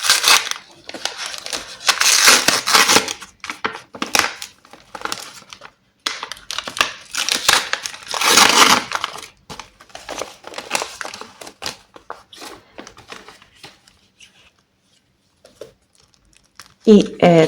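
L.O.L. Surprise rabbit toy packaging is torn open and crinkled in bursts of crackling plastic and paper, close up, with someone talking between and over the rustling and quieter pauses.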